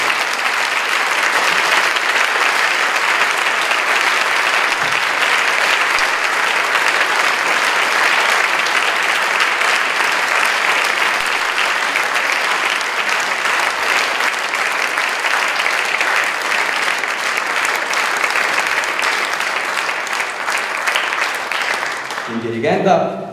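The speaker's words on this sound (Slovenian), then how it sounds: "Prosila vas za en velik aplavz za mladinski festival." A concert audience gives sustained, loud applause for a youth choir at a spring concert, steady broadband clapping that carries on alone for over twenty seconds before tapering off at the end.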